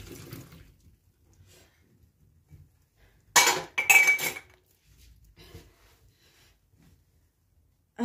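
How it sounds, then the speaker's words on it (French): Hand-washing dishes at a kitchen sink: a few clattering bursts of cutlery and pots clinking together, close and fairly loud, separated by quiet stretches with faint splashing water. "je vais finir ma vaisselle tranquille"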